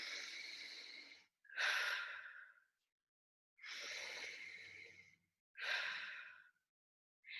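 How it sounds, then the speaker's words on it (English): Two slow, deep breaths, each a soft inhale followed by a longer exhale, close and quiet with brief silences between, with no talking. "And taking in 2 deep breaths."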